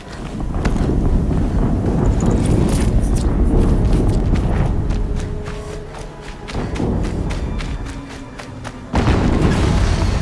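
Another explosion in the video game Horizon Zero Dawn rolls out as a loud, continuous booming rumble with windy roar, easing briefly before a fresh deep blast surges back near the end.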